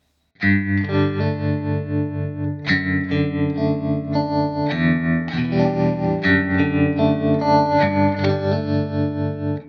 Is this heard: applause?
no